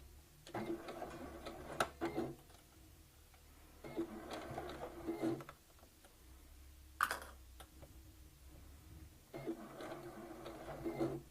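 A sewing machine back stitches over crochet fabric, running in three short bursts of fast mechanical whirring and clicking separated by pauses, close and fairly quiet.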